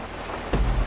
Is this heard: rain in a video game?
yes